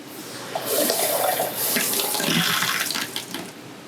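Water runs from an RV sink faucet with hot and cold taps, a steady close hiss and splash into the basin that swells after a soft start and continues without pause.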